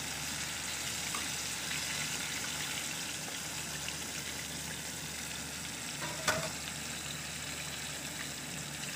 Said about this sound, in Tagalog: So, deep fried natin siya.